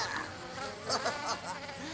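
Cartoon bee buzzing in a children's animated series, a steady insect drone that wavers in pitch and swells slightly as it moves about, heard alone.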